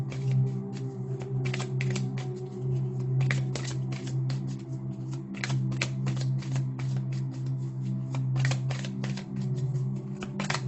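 Oracle cards from a Soul's Journey deck are shuffled by hand in a steady run of soft riffling flicks and taps, close and continuous, over a low steady hum with no talking.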